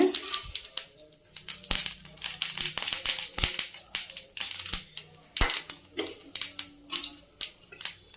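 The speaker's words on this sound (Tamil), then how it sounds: "சூடான கடாயில் ஆயில் விட்டுட்டு கடுகு போட்டுட்டு" Mustard seeds splutter and pop in hot oil in a pan for a Tamil stir-fry: sharp, irregular crackles, close and fairly loud, some bunched in quick clusters, with a faint voice in the background.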